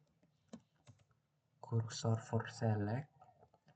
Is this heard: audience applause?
no